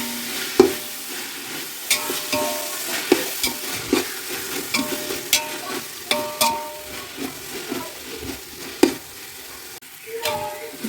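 Tomato, mint and coriander sautéed in a pan for chicken biryani, with repeated spoon scrapes and stirring knocks over a soft sizzle, close and fairly loud.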